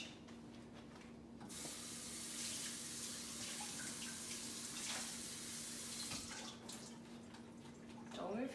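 Food, likely carnitas ingredients, rinsed under a running kitchen tap, with a steady close hiss of water splashing into a sink throughout and a brief spray burst near the end.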